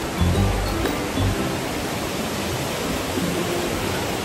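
Waterfall roaring as a steady broadband rush of falling water, close and loud throughout, with a few faint low thumps early on.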